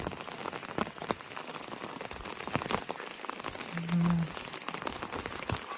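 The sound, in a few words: rain falling on a rooftop terrace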